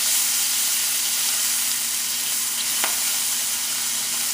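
Potato fritter mixture stirred in a hot pan makes a steady, even frying hiss, broken by a single faint click.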